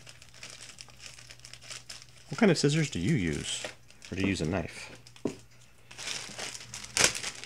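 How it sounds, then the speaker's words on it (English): Plastic bag holding 1/35 scale model kit parts is torn open, brief crinkling and ripping bursts between and under a person talking nearby. "I ended up ripping the bag down the side."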